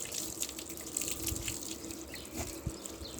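Water runs from a tap as a golden retriever is rinsed during a bath, a faint, continuous splashing with soft irregular spatters and drips and no voices.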